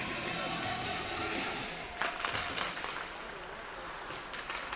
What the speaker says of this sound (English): Dubuque varsity over there on the far side, cheering their teammates on